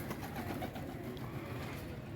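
Pigeons coo softly on a rooftop at night, a low continuous murmuring coo repeated over a steady background, no voices.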